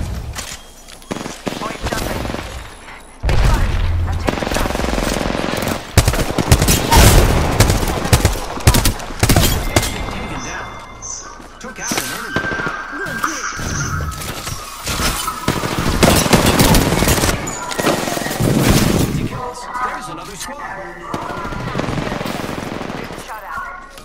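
Rapid gunfire from the G7 Scout rifle in Apex Legends battle royale, with repeated sharp shots and bursts running through most of the stretch amid game effects, loud and close.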